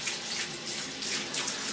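Water runs steadily from a tap into a tub or sink, a continuous close hiss with slight pulsing surges and no voices over it.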